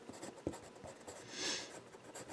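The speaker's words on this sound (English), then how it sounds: "we come in with a black pencil. And rub that in." A pastel pencil rubs and strokes across paper close up, giving soft scratchy scraping in short passes with one sharper tap, quiet and without talk.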